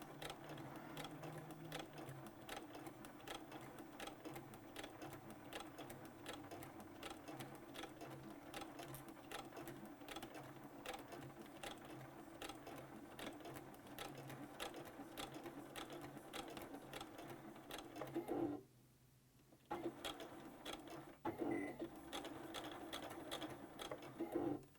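A sewing machine stitches a vinyl wallet, running in a steady, fast, even mechanical patter that holds for a long stretch, with one brief stop near the end before it starts up again.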